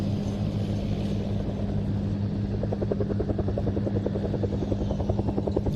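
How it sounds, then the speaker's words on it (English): An Antonov An-2 biplane's engine starts up at an airshow in Leszno, with a steady low rumble that develops a rhythmic, chugging pulse partway through, heard at a moderate distance. "Now the An-2 is starting up"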